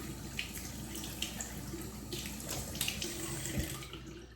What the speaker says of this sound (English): And I'm going to wash my face.